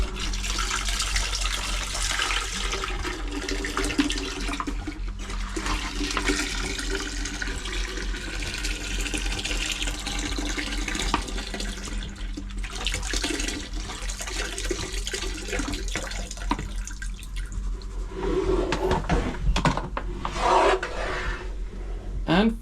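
A boat's marine toilet flushes antifreeze windscreen washer fluid through its hoses, giving a continuous loud rasping, gurgling rush of liquid and pumping that surges and churns close by, with no talking.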